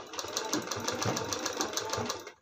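A sewing machine stitches a folded edge around a round piece of handkerchief fabric for a baby's sock boot, running as one steady, close whir that stops at the very end.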